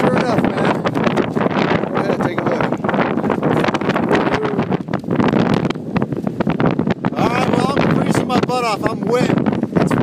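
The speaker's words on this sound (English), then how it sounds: "I'm wet. It's windy. A little cold." Strong wind buffets the microphone outdoors on a wet, cold day, roaring and gusting continuously while a person talks over it.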